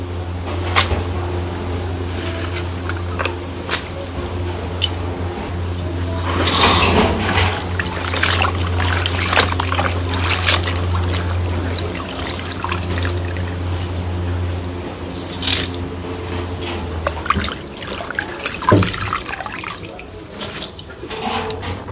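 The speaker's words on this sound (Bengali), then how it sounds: "আমি শাকগুলো ভালো করে ধুয়ে নেই।" Leafy greens, including Malabar spinach, being washed in water in a Bangladeshi village kitchen, with steady splashing and trickling close by and a low hum running underneath.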